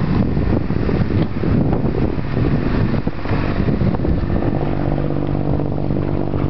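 A boat engine runs steadily on a moving boat in Bodrum, a loud continuous drone with wind buffeting the microphone throughout and no speech.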